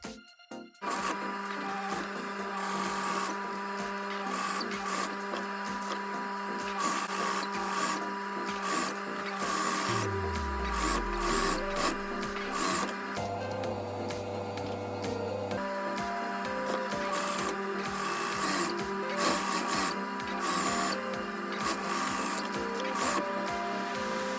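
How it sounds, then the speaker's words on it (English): A sewing machine runs a straight stitch along the fabric of a bridal hair bow, a continuous close mechanical whirr that shifts in pitch partway through, with no voices. "Now I'll sew this pattern piece with straight stitch, and my seam allowance is approximately 5 millimeters."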